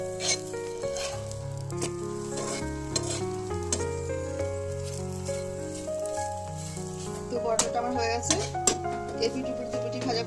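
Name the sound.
curd paratha frying on a hot tawa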